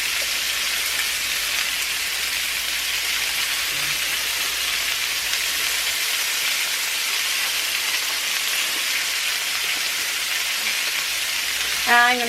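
Cabbage sizzles loudly in a hot pan as it is stir-fried for noodles, a dense, unbroken hiss of frying that holds steady throughout, with a brief faint sound near the end.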